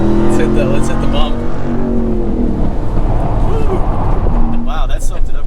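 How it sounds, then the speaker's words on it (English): Dodge RAM TRX pickup with a supercharged Hellcat engine, a loud, rumbling drone with rising and falling whine and gurgling off-throttle crackle, running continuously beneath voices talking inside the cab. "When you're letting off the gas, you're still getting that gargle and pop, that real muscle sound."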